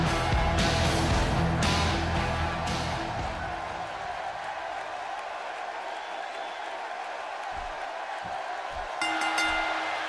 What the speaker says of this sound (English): Impressive crowd responses over the years, but the response this guy gets, well, it's incredible.